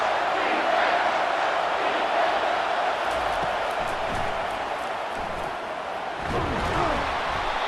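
Steady, loud stadium crowd roar fills a College Football 25 game between Alabama and Tennessee on third down, a dense wash of noise that swells slightly near the end, with faint game sounds mixed in.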